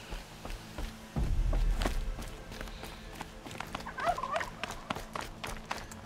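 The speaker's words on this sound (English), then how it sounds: "We don't have time to be hunting turkeys." Turkeys gobbling in Horizon Zero Dawn, a few rattling calls rising midway among footsteps and a thumping step near the start, fairly close and moderately loud with no talk.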